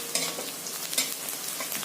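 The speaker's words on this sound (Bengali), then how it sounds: "পেঁয়াজটা ভাজা ভাজা হয়ে গেছে, এই সময় দুটো কাঁচা লঙ্কা চেরা আছে দিয়ে দেবো।" Onions and slit green chillies fry in a pan for a moong dal with fish head, giving a steady, close sizzle with a couple of louder stirring scrapes and no talking.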